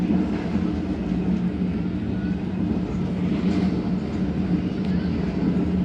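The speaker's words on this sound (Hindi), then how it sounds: "जलाला रेलवे स्टेशन पास हो रही है हमारी ट्रेन" Karakoram Express train on the Faisalabad to Khanewal line rolling past Jalala railway station, heard from inside the air-conditioned coach as a steady loud rumble of wheels and carriage with no break.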